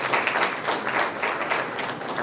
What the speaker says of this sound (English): Round of applause for DTT one more time.